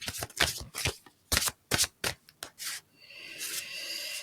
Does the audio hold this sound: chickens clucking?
no